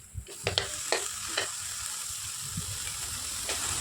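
Bottle gourd leaf mixture frying dry in a pan, with a few sharp scraping stirs early on over a steady soft sizzle and hiss, no talking.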